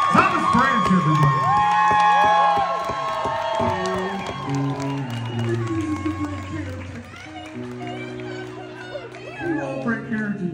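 A concert crowd cheers and whoops for the drummer at the end of a band show in Kansas City, with a voice talking over the crowd and musical tones ringing underneath.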